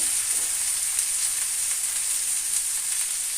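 Water is added to spice paste frying in oil for a Bengali Vola fish jhal curry, giving a steady, bright, close sizzle that hisses evenly and alone throughout.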